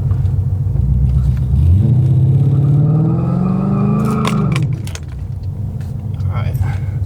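A Gen 2 Mustang with fenderwell intake and manifold mods rumbles loudly up close, its engine rising in pitch as it revs through a burnout to clean the tires, then dropping back to a heavy idle.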